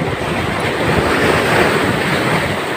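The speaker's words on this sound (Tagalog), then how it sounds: "Ang lakas ng alon." Strong ocean waves roar steadily, a dense, continuous wash of surf with wind buffeting the microphone throughout.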